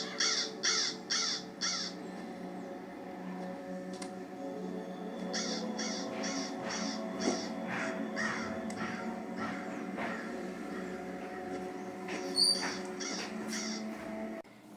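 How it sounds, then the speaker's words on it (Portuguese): A crow gives repeated harsh caws in quick bursts of three to four calls, fairly close and clear, with longer runs of cawing through the middle and quieter outdoor sounds in between. "O mais interessante, irmão, é o corvo."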